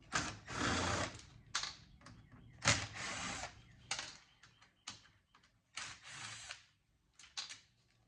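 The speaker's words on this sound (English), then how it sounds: "Got screws here in the front I can take out." Screws being removed from the front of a Yamaha AV receiver with a power driver, several short whirring bursts of varying length separated by pauses and small clicks, close and quiet with no talk.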